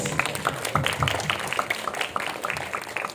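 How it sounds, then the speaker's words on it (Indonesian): Applause from the crowd at a press conference, a continuous wash of many hands clapping at moderate distance with faint voices mixed underneath. "Kita berikan tepuk tangan."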